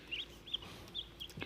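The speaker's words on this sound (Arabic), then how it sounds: "دي بط سوداني ودي فراخ" Sudanese ducks and newly hatched chicks in an enclosure give several short, high chirps and peeps in quick bursts, faint against a quiet background with no talking.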